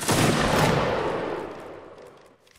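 A massed musket volley crashes out at once in a Napoleonic Wars line battle game, a loud dense burst of many shots blending into one roar that rolls away and fades over a couple of seconds.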